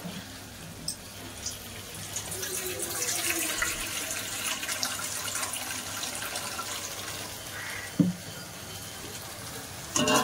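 Water pours into mutton curry cooking in a pot, making a continuous gentle splashing and trickling close by, with a couple of sharp clinks near the end.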